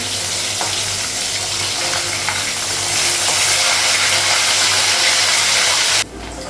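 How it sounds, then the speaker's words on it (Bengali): Fish frying in hot oil in a home kitchen, a loud continuous sizzle with some stirring, cutting down sharply just before the end. "মাছটা ভাজা হয়ে গেছে।"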